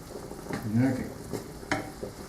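Onions fry in a pan with a quiet, steady sizzle, broken by a few soft stirring scrapes and one sharp utensil tap.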